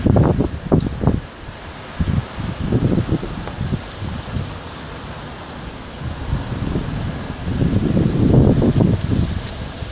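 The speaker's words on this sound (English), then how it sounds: "the wind doesn't take it" Wind blowing outdoors at a Halloween party, a steady broadband rush with gusty swells and low rumbling buffets against the microphone, strongest near the start and again toward the end.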